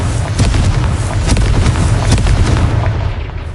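A dense, roaring Confringo blast from the Hogwarts Legacy video game holds at full loudness for a few seconds as one continuous, crackling explosion that fades slightly at the end.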